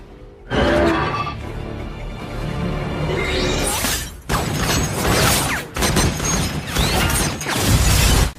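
Heavy glass of an alien ship's control room shatters after a sniper shot, a loud film effect with a rising crash, then repeated bursts of breaking glass and whooshing debris over a dense mechanical roar.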